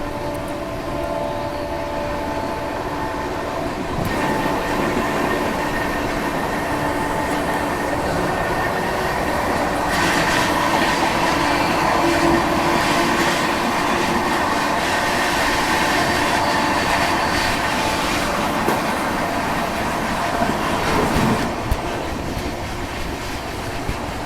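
Bengaluru Rajdhani Express running at speed past the Bhopal Dhanbad Express standing in a loop line, a steady loud rumble of rolling wagons with rising clatter midway and no talk.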